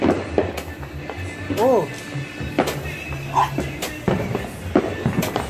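Roman candle fireworks pop and thud in short bursts outdoors, with whistling shots and scattered bangs amid voices and movement nearby.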